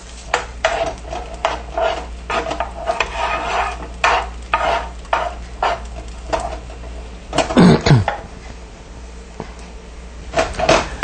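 Raisins and a cashew fry in ghee in a pan for royal rice, with rhythmic scraping and stirring strokes over a soft sizzle and a brief clatter near the middle.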